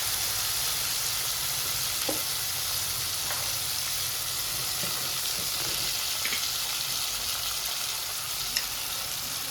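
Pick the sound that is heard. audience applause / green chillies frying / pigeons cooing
green chillies frying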